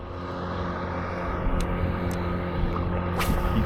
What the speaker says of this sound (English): You can hear the boats in the background.